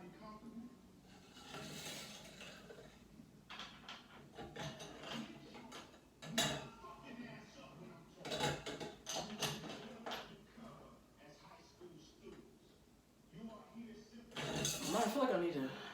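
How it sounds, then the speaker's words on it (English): Metallic clicks and scraping taps of screws being fitted into the cover of a Yaheetee dance pole, close and irregular, with a few sharper knocks and a person talking throughout. "I gotta see if I can fit these screws in here."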